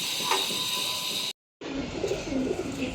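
Giribaz pigeons coo softly nearby over a steady background hum, and the sound drops out briefly in a short cut before the cooing and ambience return.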